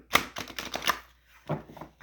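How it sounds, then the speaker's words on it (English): Angel oracle cards shuffled by hand, a quick burst of crisp card riffles and taps followed by a short pause and a couple more, close and alone. "we'll do a little shuffle"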